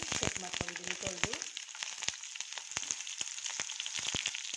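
Green chillies, mustard seeds, chana dal, urad dal and cumin frying in hot oil: a steady bright sizzle with sharp popping crackles, busiest at first, then scattered, heard up close.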